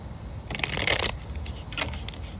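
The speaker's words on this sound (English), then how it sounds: "I hope you can hear that I am shuffling." Tarot cards being shuffled by hand in a quick riffling burst, followed by a second softer flurry, against a steady low rumble of wind.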